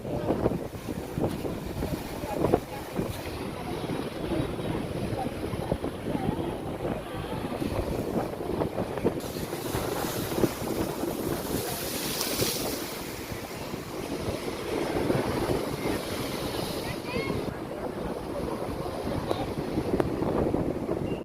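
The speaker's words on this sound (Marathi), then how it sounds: "भरपूर लाटा अशा उसळत आहेत." Sea waves surge and splash against the shore at Marine Drive, making a continuous rushing wash with periodic swells, heavily buffeted by strong wind noise across the microphone.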